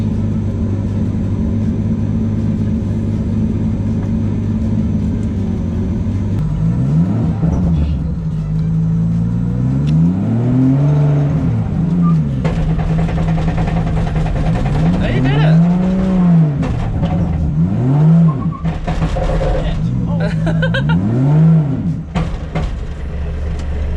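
A 600 hp Nissan R32 Skyline revs and accelerates in repeated rising engine sweeps, loud and close inside the car, with people talking over the rumble.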